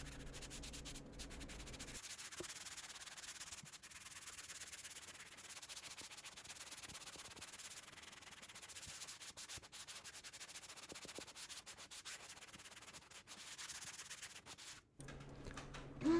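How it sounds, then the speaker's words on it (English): Sanding block rubbed over drywall compound patching a hole, a steady scratchy rasp of repeated back-and-forth strokes running continuously and close for most of the stretch, with brief quieter moments at start and end. "start sanding it with a sanding block"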